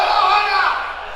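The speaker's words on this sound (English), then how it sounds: "Gets shouts and encouragement from his coach in the crowd" A crowd shouts encouragement at a powerlifter about to lift 200 kilos at a regional powerlifting championship, with his coach among the host-nation fans; a loud, steady wall of cheering and yelling fills the whole moment.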